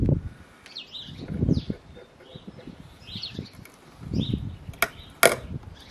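Small garden bird with its head caught in a bird box entrance, giving brief high chirps and flutters amid rustling handling, while people talk softly nearby.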